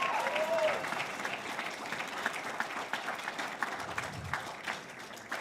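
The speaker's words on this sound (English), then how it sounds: "Give them a round of applause." Applause from an audience at a live documentary screening and awards night, moderately loud and continuous, with scattered sharper claps and faint crowd murmur and some talk underneath.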